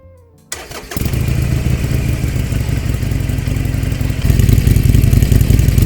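A Harley-Davidson Sportster 1200 Forty-Eight starter whirs, then the engine fires and runs with a loud, throbbing idle, revving up slightly near the end.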